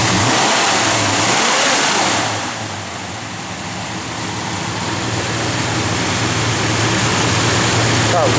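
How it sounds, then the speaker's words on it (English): A 1968 Plymouth GTX V8 revs up strongly, eases off briefly in the middle, then climbs back to a loud, steady roar, heard close and continuous. "A little rev there, Jordy."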